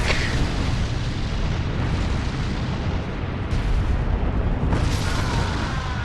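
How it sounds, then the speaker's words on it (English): Cannon fire in Bloodborne's Chalice Dungeon, heavy booming blasts over dense rumbling noise, with sharp reports landing near the middle and toward the end. "Oh, and there was a cannon."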